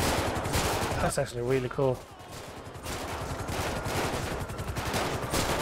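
Gunfire in Grand Theft Auto V rattles off in fast bursts that come close and loud, pausing briefly, with someone talking over the shots.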